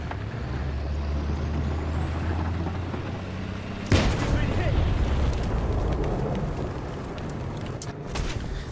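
A tank explodes in the War Thunder video game, a sudden loud boom cutting through a steady engine rumble and high whine, followed by a long roaring, crackling tail.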